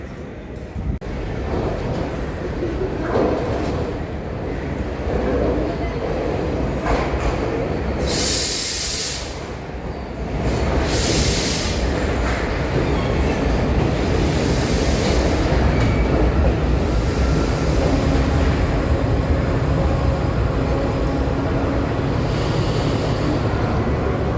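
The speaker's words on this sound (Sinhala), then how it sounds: "මේ ස්ථානෙට දුම්රියක් ළඟා වීමට නියමිතයි" Train arriving at a station platform, with a loud sustained rumble and hiss of the cars rolling in and rising in intensity over twenty-odd seconds, along with brief sharp bursts of brake or air noise.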